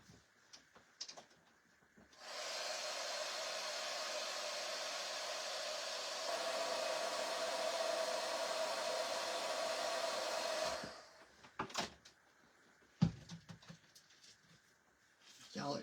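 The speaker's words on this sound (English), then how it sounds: "Use the heat tool." A heat tool blows hot air onto a stuck jar lid, a steady loud whooshing roar lasting about nine seconds, with faint handling clatter before and after.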